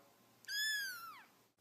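A single clear cat meow, a rising then falling drawn-out cry lasting under a second, fairly close and alone against a quiet background.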